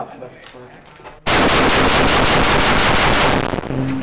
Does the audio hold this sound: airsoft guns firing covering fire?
yes